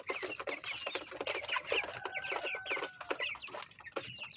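Broiler chickens 45 days old clucking continuously in a pre-dawn coop, many overlapping calls and short squawks forming a busy, close flock chatter with no voices.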